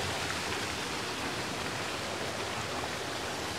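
Floodwater in a mountain stream after a flash flood pours in a loud, unbroken hiss and roar, close by and without pause.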